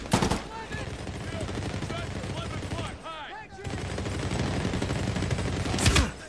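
Sustained automatic gunfire from Medal of Honor: Warfighter during a beach assault mission, dense rapid bursts and shots crackling continuously with a brief lull near the middle, loud and close throughout.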